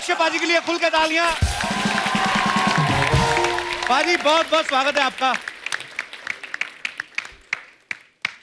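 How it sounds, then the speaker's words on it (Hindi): A studio audience on a Hindi comedy talk show applauds loudly for a superstar guest in a sustained wash of clapping that thins into scattered separate claps. A host speaks over the applause. "पाजी के लिए खुल के तालियां।"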